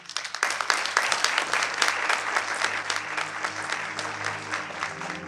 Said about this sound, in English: I really want to start by that round of applause to everyone who have put this together.